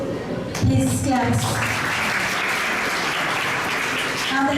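Seminar audience clapping at a valedictory session on bio-manufacturing, a short spoken prompt followed by continuous, fairly loud applause that carries on to the end.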